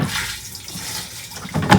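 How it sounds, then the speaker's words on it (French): Water from a gallon jug is poured into an RV toilet's black water return pipe, a short gurgling splash that builds and surges toward the end. "Et on a rajouté de l'eau."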